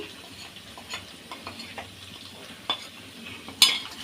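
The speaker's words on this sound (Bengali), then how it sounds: "এখন আমি আবার একটু তেলের মধ্যে একদম সামান্য আঁচের মধ্যে ভেজে নিলাম" Chilli powder, turmeric and salt fry gently in oil over low heat for a long-whiskered catfish dish, a soft sizzle broken by scattered spoon scrapes and taps, and a sharper clink near the end.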